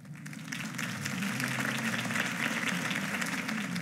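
Sustained crowd applause after a political speech in Batman: The Telltale Series, a dense wash of clapping that holds steady throughout, with a faint voice mixed in.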